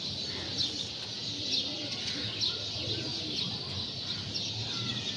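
A flock of about fifteen pigeons sits together, giving soft, repeated low cooing and faint fluttery calls throughout, with steady background hiss and no clear speech.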